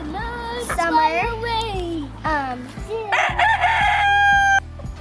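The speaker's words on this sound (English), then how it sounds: "This is my chicken." A young farm chicken hatched from an egg this summer and now molting crows and clucks loudly and close up in several quick bursts, ending in a harsher squawking call.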